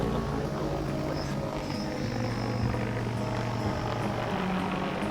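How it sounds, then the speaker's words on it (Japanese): An agricultural drone flies over a yam field in Tokachi, Hokkaido, giving a steady, fairly faint rotor whir and hum that holds for several seconds with no voices. "ドローンです。"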